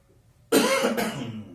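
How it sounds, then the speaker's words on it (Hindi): A single sharp cough bursts out close by after a brief quiet, followed by a second rougher hack that trails off. "सर्दियां बढ़ गई है, खांसी जुकाम हो रहे हैं, ध्यान रखो अपना"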